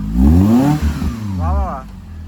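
A modified car's engine revs up and climbs in pitch, then falls back before a second, shorter rev swell, loud and close, with people talking over it.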